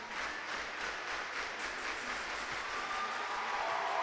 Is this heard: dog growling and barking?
no